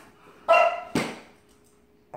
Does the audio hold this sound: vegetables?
no